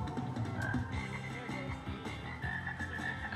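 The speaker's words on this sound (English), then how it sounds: "Look at these frogs. The frogs are singing to this song." Frogs croak steadily in a dense chorus at a holiday light display, moderately near, with overlapping calls and faint music in the background.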